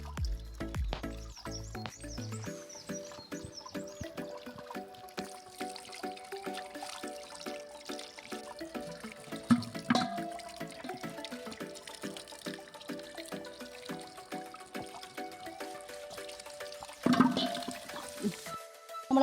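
Running tap water splashes and drips steadily over beef legs being washed for a traditional Kerala dish, with occasional clatter and louder gushes near the end and no speech.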